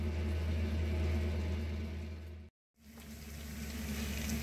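Broccoli and pak choi fry in a pan with a steady low sizzle and hum, broken by a sudden brief cut to silence before the frying sound returns.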